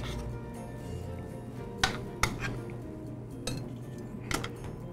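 Salmon is set onto plates with intermittent clinks of utensils and dishware, a few sharp metallic taps over a steady kitchen background hum.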